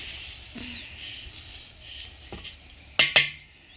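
Coriander seeds roasting in a pan over a wood-fired village stove, stirred with a utensil: a soft dry rustling hiss with a few scraping strokes, ending in two sharp metallic clinks close by.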